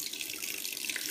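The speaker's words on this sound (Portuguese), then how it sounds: "Agora fecha a torneira." Tap water runs steadily from a faucet into a sink while clothes are being washed, a continuous close hiss and splash with no talking.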